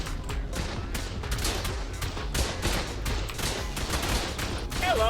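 Rifle fire rattles in the video game ARK, a dense stream of rapid shots that stays loud and steady through a PvP fight, with faint voices beneath.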